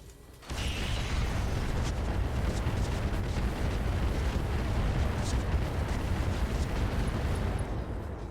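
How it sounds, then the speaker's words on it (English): Barrage of rockets exploding in RogueTech, a BattleTech mech game, as a sustained dense roar of blasts that kicks in after a brief silence and rumbles on loudly without a break. "That was a lot of rockets."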